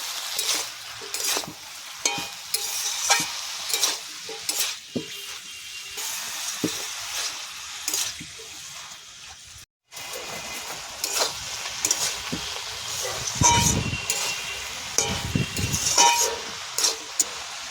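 Banana stem (thor), its water squeezed out, fries in a pan with a continuous sizzle. Frequent close scrapes and stirs of a spatula sound over it, along with occasional light clinks, through a long stretch with almost no speech.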